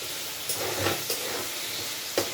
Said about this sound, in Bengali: এটা একটু ভাজা হোক।